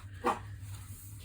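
A single short, muffled bark from a dog indoors rises briefly over a low room hum, then fades back to near quiet.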